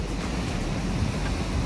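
Sea surf at Kovalam beach in Trivandrum, a brief dense wash of breaking waves mixed with wind buffeting the microphone, no voices.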